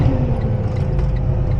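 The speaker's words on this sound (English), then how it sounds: "You hear that grinding?" Gears grinding on a semi truck loaded to 80,000 lbs in the mountains: a short, harsh mechanical grind layered over the steady low drone of the running engine.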